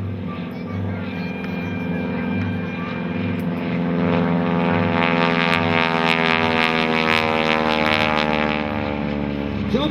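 A propeller airplane carrying a wing walker on its top wing flies a tight loop at an air show, its loud, steady engine drone swelling and shifting pitch as it climbs and turns.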